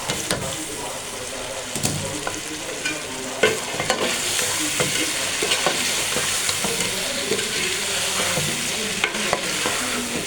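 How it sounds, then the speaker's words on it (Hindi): Pumpkin (kaddu) frying in a pan for a chana dal dish, with a steady loud sizzle throughout and repeated scraping, clattering stirs of a spoon against the pan, no talking. "अच्छी तरह से हम इसको फ्राई करेंगे।"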